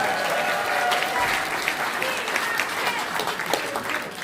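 A crowd applauds a provincial youth committee chair at a Korean political protest rally in South Jeolla, with sustained, dense clapping and some cheering throughout.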